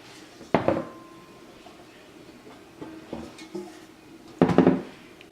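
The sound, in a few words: Viking 3-ply frying pan being handled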